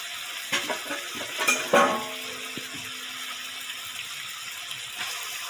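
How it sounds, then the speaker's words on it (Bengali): Chicken pieces drop into hot spiced oil with a few sharp clattering splashes, then a steady, moderate sizzle continues close by with no talking. "মশলা থেকে তেল ছেড়ে গেছে, এবারে মাংসগুলো দিয়ে দিচ্ছি।"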